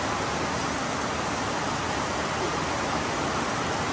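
Steady, even rain hiss in Costa Rica fills the whole stretch, dense and unbroken, with no voices.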